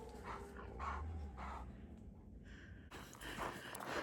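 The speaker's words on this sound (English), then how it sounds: "Made our way past the howling barking dogs." Dogs behind a fence bark and yelp in short, irregular bursts, fairly faint and at some distance, mixed with snorting and panting sounds.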